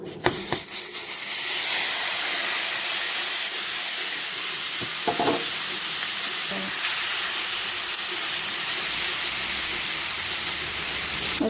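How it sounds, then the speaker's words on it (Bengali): Marinated kechki fish sizzles in a hot pan with a loud, steady hiss that starts abruptly and holds to the end, with a few faint clinks and no talk. "প্যানটা গরম হয়ে গেছে ওখানে যে ম্যারিনেশন করে রাখছিলাম মাছটা পাঁচ মিনিট হয়েছে ওখানে মাছটা দিয়ে দেবো"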